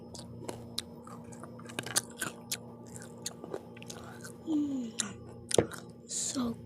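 Close-up crunching bites and chewing of crispy pizza, with quiet irregular crackles and soft mouth sounds, plus some faint breathy vocal sounds.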